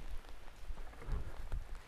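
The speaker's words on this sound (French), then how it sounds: "là il est en train de pleuvoir" Rain falls steadily outdoors, a soft, continuous patter of drops hitting surfaces, low in level with no voices.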